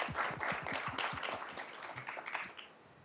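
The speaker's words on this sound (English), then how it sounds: "So a huge round of applause to all you folks" A conference audience applauds the organizers of a panel. The clapping is faint and distant, a quick patter of many hands that thins out toward the end.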